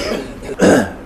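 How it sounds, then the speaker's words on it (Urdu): A man with a sore throat clears his throat and gives a short cough, a muffled rasp followed by a louder, fuller burst, close to the microphone with no speech. "میرا اپنا بھی گلا خراب اور کھانسی ہو رہی ہے"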